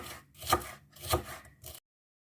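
A knife chops through vegetables on a board, cutting them into quarters: three firm, evenly spaced cuts that sound close and clear, then silence.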